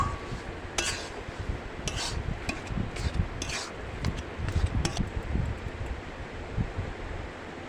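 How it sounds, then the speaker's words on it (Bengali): Vegetables stirred with a metal spatula in a pan for vegetable chops, giving soft scraping and rustling with scattered sharper clinks and scrapes against the pan, fairly close and steady, with no talk. "খুন্তি দিয়ে ভালোভাবে সবজির মধ্যে মেশাতে হবে"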